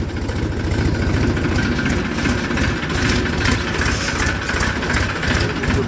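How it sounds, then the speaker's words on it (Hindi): A tractor engine idles steadily and close by, its low rumble and vibration continuous throughout with no talk. "लेके चल रहे हैं ट्रैक्टर को"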